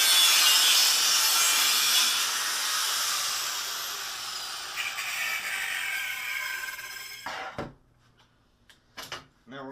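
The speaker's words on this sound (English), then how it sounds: "We're going to cut this center piece out." Metal cutting along drawn lines to remove a center piece from a box frame for a seat mount, a steady grinding hiss running for about seven seconds before stopping, followed by a few short clanks.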